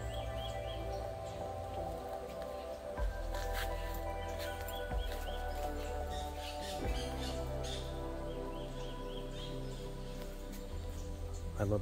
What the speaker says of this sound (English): So many birds here.